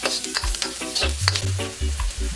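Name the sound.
garlic sautéing in chicken oil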